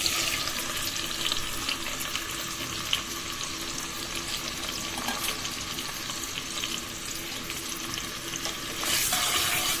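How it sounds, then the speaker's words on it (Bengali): Onion, garlic, ginger, green chilli, tomato and ground spices fry in hot oil in a pot, making a dense, continuous sizzle up close that swells slightly near the end, with no voices. "এগুলো আগে ভালোভাবে ভাজা হয়ে যাক"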